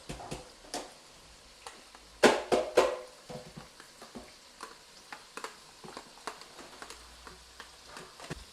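Quiet scraping and knocking of a spoon stirring fish head curry in a pot, with a few louder clanks near the start and soft bubbling underneath.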